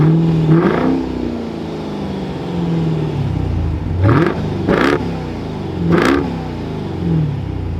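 A 2023 Dodge Durango SRT Hellcat engine fires up and revs repeatedly, several sharp rising bursts over a steady idle, close by.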